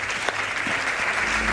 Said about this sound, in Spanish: Un aplauso os pido para ellos tres